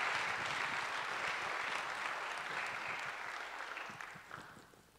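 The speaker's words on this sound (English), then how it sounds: "Please join me in a round of applause for them and what they do to show the love of Christ to others." A church congregation applauds during a service, steady mid-level clapping from many hands that gradually fades toward the end.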